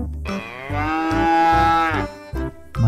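A cow loaded onto a truck for transport gives one long, loud, close moo with a rising, droning tone, followed by shorter grunting calls.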